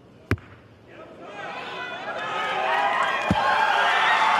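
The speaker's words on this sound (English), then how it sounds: "We hear cheering" Crowd cheering swells at the Vegas Shoot archery championship finals, rising from a murmur into sustained loud cheers and whoops with two sharp knocks, likely under light commentary.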